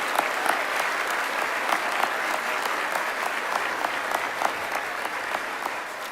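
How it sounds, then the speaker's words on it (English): A steady round of applause from a sizable crowd at a military induction ceremony, dense clapping sustained evenly throughout with a few sharper claps standing out. "Let's give a big round of applause"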